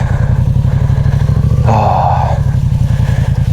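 A road motorcycle engine chugs steadily at close range while riding a dirt road near Campiglia Marittima, with a brief clattering rattle partway through as it rolls over rough ground.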